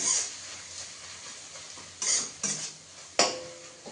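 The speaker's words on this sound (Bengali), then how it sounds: "তাহলে একটু হালকা নাড়াচাড়া করে নিই" A utensil stirs capsicum in a cooking pan, a few separate scraping, clattering strokes against the pan over a faint background hiss and no voices.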